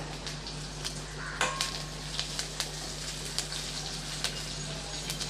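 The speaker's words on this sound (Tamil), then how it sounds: "கொஞ்சம் செவந்து வர்ற அளவுக்கு நல்லா வதக்கி விட்டுடலாம் கொஞ்சம் கருவேப்பிலை" Shallots and curry leaves sautéing in a pan for cucumber mor kuzhambu, a steady soft sizzle with scattered small pops and crackles, close and even, with a low hum beneath.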